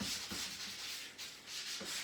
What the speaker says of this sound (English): I'm just going to take a 220 grit and go over the top.